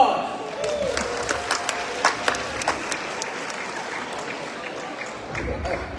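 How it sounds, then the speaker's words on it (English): An audience at a high school event breaks into applause, a loose crowd of clapping with scattered sharper claps standing out, moderately loud and steady for several seconds. "Round of applause."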